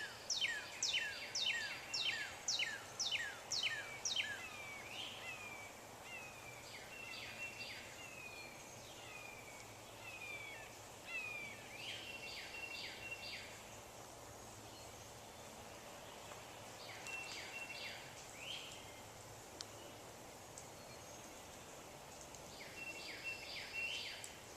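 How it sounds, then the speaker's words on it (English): Many birds sing in a Tallahassee yard and garden, repeated bursts of high chirping trills that come and go, faint and somewhat distant over a quiet outdoor background. "you hear right now a lot of birds."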